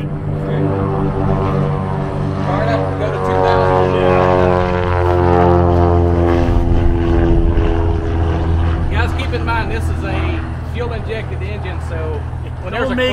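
A Stinson light aircraft's piston engine and propeller run up to about 2000 rpm during dynamic prop balancing, a loud, steady droning roar with a strong rhythmic beat that swells midway, heard close with people talking over it.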